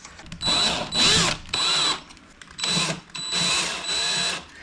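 Power drill or driver bursts removing screws from a DIY EEL battery box kit, several short whirring runs of about half a second to a second each, close and loud with pauses between.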